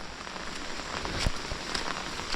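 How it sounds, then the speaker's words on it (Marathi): Heavy monsoon rain pours down steadily in a Konkan village, a dense, continuous hiss of drops drumming on surfaces, with no voices and a few slightly louder splashes scattered through it. "पाऊस काय हैमान माजवला ना एकदम असं तसं नाही भरपूर मोठा"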